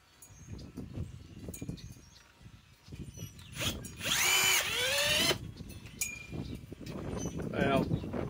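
A cordless drill in screw mode drives a screw into sheet metal: short whirring bursts, then a loud rising whine with metallic squeal for about a second before it stops, between stretches of talking.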